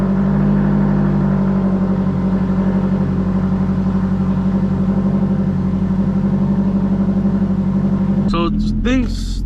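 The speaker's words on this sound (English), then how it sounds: "Now we'll start up the car." A 2015 Scion tC with newly replaced wheel studs idles steadily at close range with a low, even engine hum, and a brief burst of voice comes near the end.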